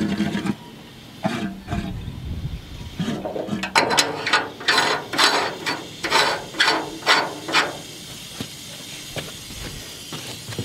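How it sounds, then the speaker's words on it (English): Air being drawn through a blocked fuel tank breather during a tank pressure test, a loud, close, rhythmic series of pulsing hisses and sucking chuffs repeating about a dozen times before fading. "you can hear that, it's trying to suck air through there."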